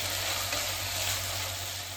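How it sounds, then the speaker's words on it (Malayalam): Prawns for pickle fry in a pan as their water cooks off, making a steady, close sizzle with an even hiss and a low hum underneath. "വെള്ളം വറ്റണ വരെ വറുക്കാം."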